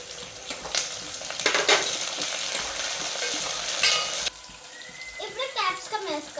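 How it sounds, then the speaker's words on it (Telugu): Curry leaves and onions hit hot oil with mustard seeds for cashew upma, giving a loud, busy sizzle and stirring that drops off abruptly, then quieter frying continues under faint talk. "ఇప్పుడు కరివేపాకు వేసుకోవాలి."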